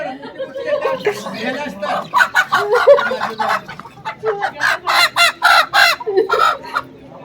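Chickens cluck and a rooster calls repeatedly in a busy, close chorus, with people talking underneath.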